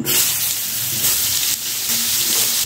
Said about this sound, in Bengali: মাছগুলো তুলে নেবার পর ওই তেলের মধ্যে ভেজে নেব আমি একটা বেগুন, ডুমো ডুমো করে কেটে রেখেছি সেই বেগুন